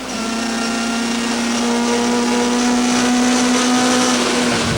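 Touring cars racing neck and neck at Killarney, including a BP Nissan Primera, 1998 season: a loud, steady high engine drone held at constant pitch throughout, close and continuous with no talk.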